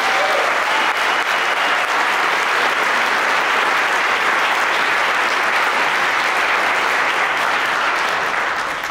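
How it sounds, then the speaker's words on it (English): An audience in a concert hall applauds after an intermediate honors school band performance, a steady, dense wash of clapping that holds for the full stretch. "Let's give them another round of applause for that."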